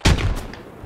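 A short burst of video game gunfire from a tactical squad shooter, a few sharp close shots in quick succession fading within a second.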